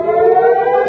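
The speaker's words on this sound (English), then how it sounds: "Suddenly the air raid siren goes off." An air raid siren blares steadily, its loud, sustained wail holding a constant pitch with rich harmonics throughout, close and unbroken with no voices.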